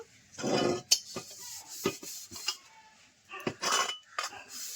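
A metal wok is set onto a clay cooking stove, making a series of close, sharp clanks and scrapes with short gaps between them, plus a few softer rattles.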